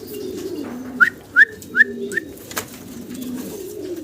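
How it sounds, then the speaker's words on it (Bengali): Grey barless racer pigeons at a loft. Four short bird calls rise one after another across the first half, then the sound drops to a low background hum. "গ্রে বার্লেস রেসার কবুতর।"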